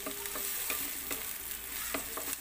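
Onions sizzle quietly in a pan at the start of an aloo gobi masala, a soft steady frying hiss punctuated by several light scraping stirs of a spatula.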